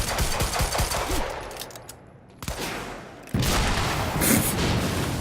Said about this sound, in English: It's a decent explosion.